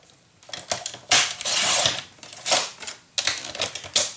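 A paper trimmer slices through cardstock in several quick, crisp strokes with sharp clicks, heard close and alone, one longer sweeping cut among shorter bursts.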